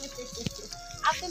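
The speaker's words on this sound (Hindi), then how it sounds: "सगड़े में पानी डाल दिया" Water is poured into a vessel in a Himalayan hill village, a short splashing gush beneath people's voices.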